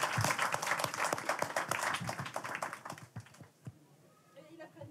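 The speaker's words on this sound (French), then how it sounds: "s'il vous plaît, un maximum d'applaudissements pour Imen" A group claps for a woman during a French Naruto discussion stream, a fairly faint, uneven patter of hands with some voices mixed in, thinning out toward the end.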